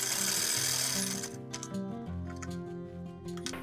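A sewing machine runs a line of stitching along a hem folded about half an inch on a cigarette pant, with a steady mechanical whir and ticking that shifts pace, close by with no talk.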